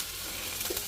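Crushed garlic and ginger-chili paste frying in hot oil in a home kitchen pan, a faint steady sizzle with a couple of small pops near the end, no voice.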